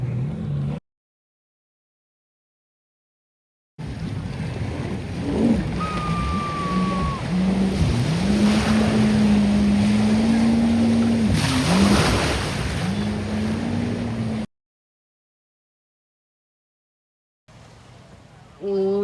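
A water bike runs on the sea near Phi Phi island, its engine whining and wavering in pitch over loud wind and splashing water, close and continuous, broken by stretches of silence.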